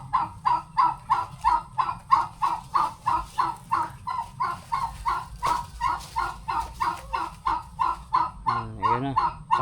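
Newly acquired turkeys, called pabo, giving a steady run of loud, rhythmic honking calls close by, nearly twenty regular bursts with a brief warbling call near the end.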